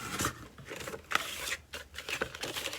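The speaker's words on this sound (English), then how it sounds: "But I will go ahead and cut this one" Scissors cut through thin cereal-box chipboard, a run of crisp snipping and rasping strokes close by, repeating irregularly over a few seconds with no talking.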